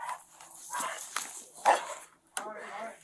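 A police dog barks and yips in short bursts during a tense police standoff at a garage, mixed in with shouted voices of officers.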